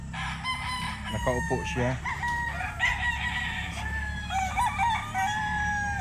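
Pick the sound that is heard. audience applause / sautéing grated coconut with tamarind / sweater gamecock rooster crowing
sweater gamecock rooster crowing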